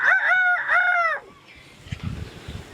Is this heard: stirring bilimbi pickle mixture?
no